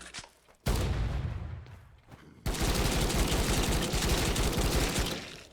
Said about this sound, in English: Now this is a +10 assault rifle, and it's still taking a while to put him down.